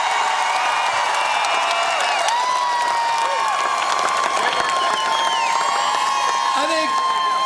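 A huge crowd at the Pittsburgh Penguins Stanley Cup victory parade roars continuously, with scattered whistles and shouts, while a voice speaks over the dense outdoor din.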